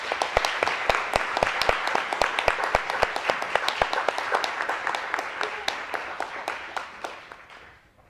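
An audience at a school board meeting claps in a brisk, even burst of applause that is fairly close and tapers off toward the end.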